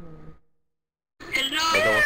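A person's voice imitates a cat meow over Garry's Mod game voice chat: a brief low murmur, a pause of silence, then a loud, close, drawn-out whiny call with wavering pitch.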